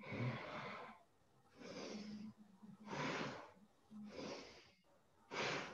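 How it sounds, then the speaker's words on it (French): Rapid yoga breath of fire, Bhastrika breathing: forceful, active inhales and exhales through the nose in a steady run of strong bursts, close and fairly quiet, with no talking. "une respiration très dynamique, la respiration du feu, donc comme le Bastrika"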